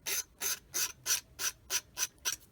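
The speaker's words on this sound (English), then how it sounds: "I think I'll scrape that off" A blade scrapes excess plastic off a part from an Italeri 1/35 M47 tank model kit, eight even, rhythmic rasping strokes, close and fairly quiet with nothing else heard.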